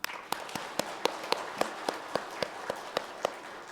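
Congregation clapping during a church service: evenly spaced, crisp claps in a steady rhythm, roughly three to four per second, moderately close, with a faint room murmur underneath.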